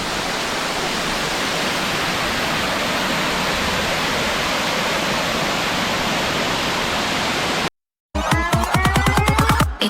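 Large waterfall at Anakulam roars as a dense, steady broadband rush close by, breaking off abruptly near the end before a brief burst of other sound.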